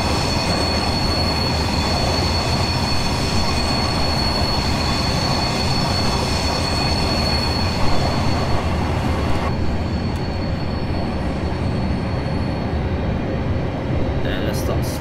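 Simulated London commuter train, eight or ten cars, from Train Simulator 2018 on the Waterloo to Reading line near Vauxhall: steady loud rolling rumble with faint wheel squeal, continuous throughout, with someone talking over it.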